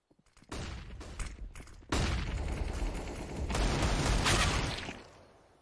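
Rifle fire in the shooter CS:GO, a few sharp single shots followed by loud sustained bursts and overlapping volleys that swell, then fade toward the end.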